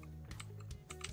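Quick run of keystrokes on a computer keyboard, several close, soft clicks in an irregular rhythm over about a second, with no voices.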